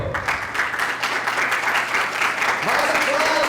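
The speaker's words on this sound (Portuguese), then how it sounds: "E agora sim, os aplausos do público." An audience at a dance festival applauds, a dense steady wash of clapping heard throughout, with voices and cheering mixed in.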